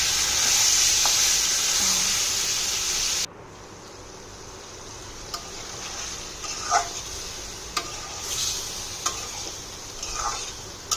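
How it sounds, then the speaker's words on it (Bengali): Fish frying in a cooked-down spice masala in a home kitchen, loud hissing sizzle at first, then a quieter steady fry with sharp scattered clicks and spatters, no talking. "সুন্দর করে কষিয়ে নিয়েছি, এরপরে মাছ দিয়ে দিচ্ছি।"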